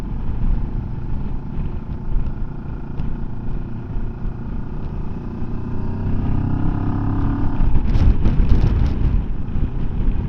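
A Rieju Xplora 707 motorcycle engine drones steadily while riding in fourth gear, buried under heavy wind rush, with a rising rev swell near the end and no talking.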